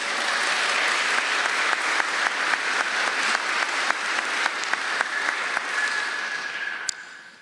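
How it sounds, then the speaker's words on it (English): Nursing graduates at a summer pinning ceremony break into sustained, dense applause that holds steady before tapering off near the end, with a brief exclamation heard. "Give yourselves a round of applause."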